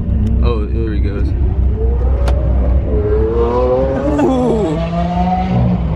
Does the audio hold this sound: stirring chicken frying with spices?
no